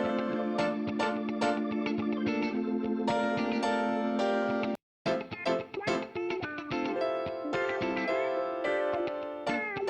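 Keyboard chords played through a Stam SA-4000 bus compressor carry slight distortion, with sustained, rhythmic stabs, a brief dropout to silence midway, then the playing resumes.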